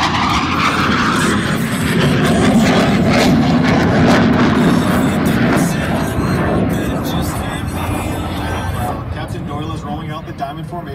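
Blue Angels jets roar loud and sustained overhead at an air show, a broad continuous engine rush that slowly eases, with crowd or announcer voices underneath.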